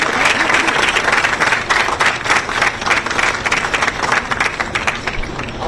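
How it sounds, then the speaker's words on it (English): A press conference audience gives steady, sustained applause that stays loud and dense throughout, with many hands clapping together and no pauses. "Another big round of applause for the 91st Amendment Institute."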